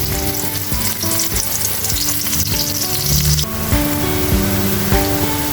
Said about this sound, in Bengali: পেঁয়াজটা একটু সুন্দর করে লাল কালার না হওয়া আসা পর্যন্ত একটু ভাজতেই থাকবো।